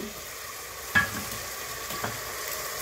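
Small marinated chicken pieces fry in a pan with a faint, steady sizzle, punctuated by a couple of soft stirring knocks against the pan, with no talking.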